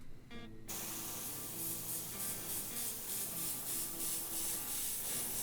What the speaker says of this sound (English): you can use a normal airbrush with this paint